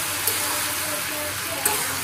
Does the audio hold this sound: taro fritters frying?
yes